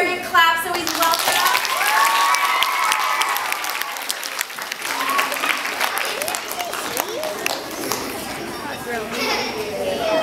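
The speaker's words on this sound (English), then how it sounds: "Sunny Bear a big clap so he's welcome." Schoolchildren at a school assembly clap together to welcome a costumed bear mascot, producing sustained, fairly loud group applause mixed with excited chatter and high children's voices throughout.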